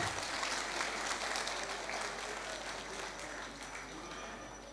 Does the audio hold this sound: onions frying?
no